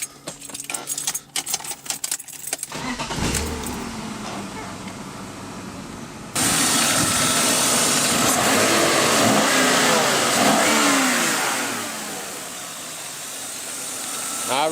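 A forged BMW S52 engine turning over and firing up for its first start, then revving loudly and steadily close by, with some light jangling before the start and no talk.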